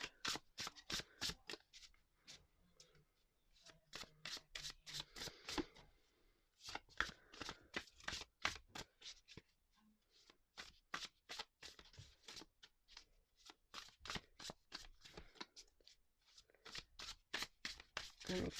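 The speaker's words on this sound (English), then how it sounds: "I'm just going to shuffle this first." A deck of cards is riffle-shuffled again and again, quick papery bursts of flapping cards close by, with brief pauses between shuffles.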